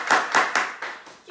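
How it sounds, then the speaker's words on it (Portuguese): A few sharp hand claps, roughly five in quick succession, fading as they go, from a small gathering applauding a woman's husband during a talk. "Uma salva de palmas para o meu marido,"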